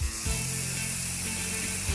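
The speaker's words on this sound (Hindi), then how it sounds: "बालों को हेयर स्प्रे से फिक्स करें" Hair spray hisses onto a mermaid doll's hair in one continuous, close, steady spray burst that lasts a couple of seconds.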